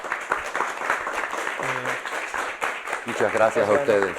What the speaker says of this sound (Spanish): Les pido por favor que nos ayuden con un aplauso para el doctor.